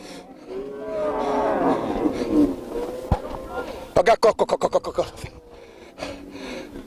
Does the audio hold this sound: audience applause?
no